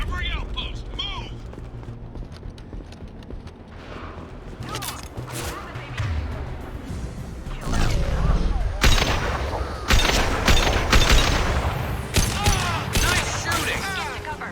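Gunfire in Mass Effect 2 combat, bursts of rapid weapon shots and crackling impacts that grow denser and louder toward the end, mixed with voices calling out over the fight.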